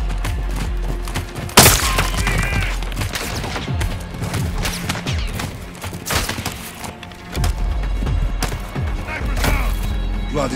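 Gunfire in Call of Duty Modern Warfare 2 cracks out as sharp, loud single shots and short bursts at irregular intervals, mixed with impacts and background battle noise.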